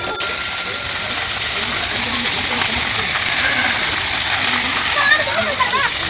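Person jumping into a resort swimming pool, a broad watery splash and churning hiss filling the whole stretch, with voices faintly mixed in.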